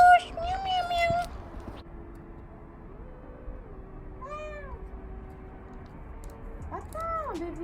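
A domestic cat meows indoors, a few short rising calls spaced apart, close and moderately loud, with a person speaking softly at the start.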